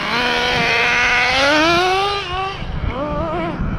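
An HPI Nitro RS4-3 nitro RC car engine on 30% nitro fuel screams at high revs, pitch rising then dropping and climbing again, loud and close with no talk.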